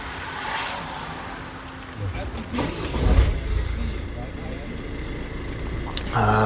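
Toyota Proace 2020 van engine being started, a low rumble rising around two seconds in and settling into a steady idle, heard close up inside the cabin with a brief click near the end.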